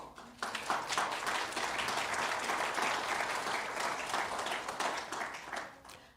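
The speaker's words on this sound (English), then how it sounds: "you can keep clapping after everything I say" Sustained applause from a large audience at a ceremony, dense and steady for about six seconds before tapering off at the end.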